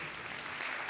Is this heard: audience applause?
yes